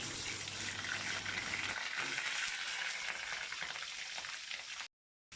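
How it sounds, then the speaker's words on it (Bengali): Potatoes fry in hot mustard oil in a wok on a home stove, giving a loud, steady, close sizzle and crackle that runs without a break, then cuts off abruptly near the end. "তেল গরম হয়ে গেছে, আমি আলুটা প্রথমে ভেজে নিচ্ছি।"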